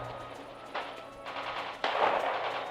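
Gunfire and tank shelling in the World War II strategy video game Radio General: bursts of dense rattling fire, each step louder, cracking over a steady low rumble.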